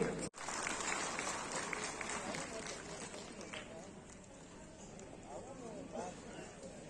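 Audience applause at a municipal ceremony in Bhavnagar for the inauguration and groundbreaking of development works: dense, steady clapping that fills the whole stretch, with a voice faintly heard over it toward the end.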